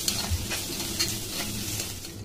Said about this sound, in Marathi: कांदा एक मस्त फ्राय करूया लालसर।